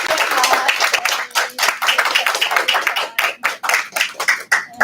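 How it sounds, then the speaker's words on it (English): A crowd claps in sustained applause, dense and steady at first, then thinning into scattered claps toward the end. "Another round of applause."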